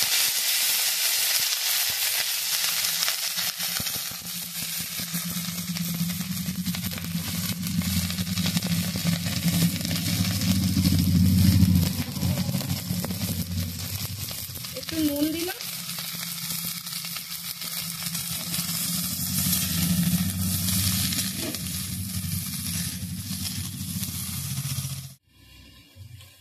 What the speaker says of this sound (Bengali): ফুলকপিগুলো আমি ভেজে নিচ্ছি।